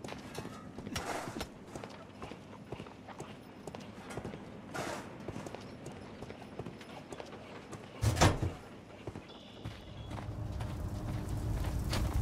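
Horse hooves clip-clop at a steady walking pace on a hard surface in a video game, medium loud, with a few louder knocks and a rising rumble near the end.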